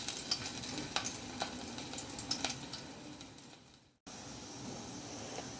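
Crushed garlic cloves, still in their skins, sizzle in hot oil for a traditional Malvani surmai curry. The steady crackling fry is dotted with sharp little pops, and it briefly cuts out before the sizzle resumes.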